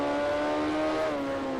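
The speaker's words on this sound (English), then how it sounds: "you'll be able to hear a lot of the cars on the other side of the track" Race cars lapping the track in the video game Grand Prix Legends, a steady droning engine note holding throughout, moderately loud and alone with no talk.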